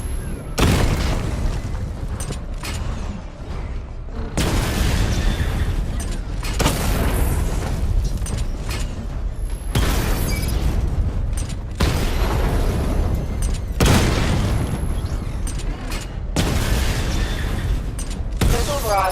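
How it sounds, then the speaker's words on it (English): Heavy missile barrage explosions from the PS4 game Batman: Arkham Knight, a string of loud, broadband booms and blasts coming in rapid waves with brief lulls between bursts, close and dominant throughout. "Charge the missile barrage to level 2 to destroy up to 4 targets at once."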